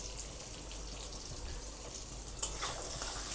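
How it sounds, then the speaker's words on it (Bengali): Onions with a bay leaf fry gently in a pan for a soybean and potato curry, giving a steady, close, moderately loud sizzle with a brief louder crackle midway. No one speaks. "পেঁয়াজটাকে একটু ভাজবো, খুব বেশি লাল লাল করব না, অল্প একটু ভাজবো।"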